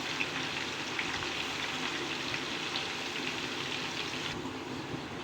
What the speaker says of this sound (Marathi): आता हे बटाटे जोपर्यंत कडक क्रिस्पी होत नाहीत तोपर्यंत आपण हे तळून घेणार आहे